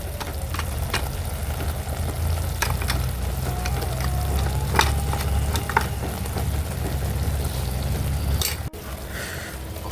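Brinjal curry fries and is stirred in a pan, a steady close sizzle with occasional clinks and scrapes of the spoon against the pan, continuous and fairly loud without talk.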